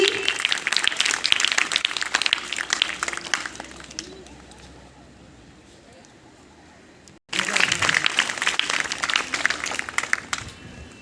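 At a school Independence Day programme, a crowd claps in a dense, uneven patter with voices mixed in, fades to a quiet lull for a few seconds, then bursts back into clapping after a sharp cut.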